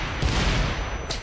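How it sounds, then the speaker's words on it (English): Grenade blasts in the action game Wanted: Dead land as a dense, loud rumbling volley of booms that swells and then fades within about a second, with no talking. "Lots of grenades."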